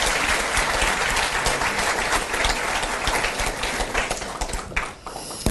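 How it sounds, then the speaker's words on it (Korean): A large crowd at a Korean unification ministry gathering gives loud, sustained applause, a dense wash of clapping that thins out toward the end. "다시 한번 옆자리 우리 식구들에게 박수 한번 크게 보내주시기 바랍니다"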